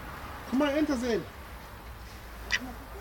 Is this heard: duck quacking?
yes